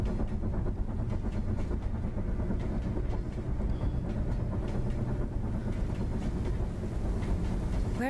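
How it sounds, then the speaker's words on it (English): Train rolling along rails in the video game INDIKA, a steady, loud low rumble with rhythmic clickety-clack of wheels over track joints and a faint squeal near the end. "Oh yeah, I forgot we jumped onto the train."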